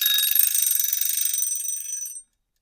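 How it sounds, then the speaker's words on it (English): An old-fashioned mechanical timer bell rings loud and close in a rapid, continuous metallic trill for about two seconds, then cuts off abruptly into silence. "that kind of old school alarm sound"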